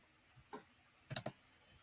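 A few sharp computer mouse clicks, faint and close, one single click followed by a quick double click in an otherwise quiet room.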